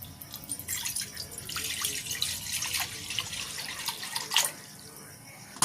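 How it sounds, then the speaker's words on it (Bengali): Water poured from a vessel into a cooking pot for boiling a whole cauliflower, a steady splashing pour in a kitchen that rises and falls in force, with a louder splash near the end. "এবারে কোড়ার মধ্যে কিছুটা জল দিয়ে দিচ্ছি।"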